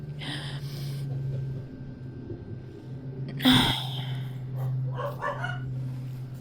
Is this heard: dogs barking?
yes